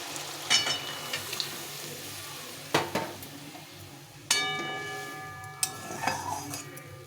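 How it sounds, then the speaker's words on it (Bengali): Soaked paneer hitting hot spiced oil in a pan, a quiet steady sizzle broken by a few sharp clinks and scrapes of a spoon against the pot. "এখন আমি যে পনিরটা ভিজিয়ে রেখেছিলাম এটা দিয়ে দেবো"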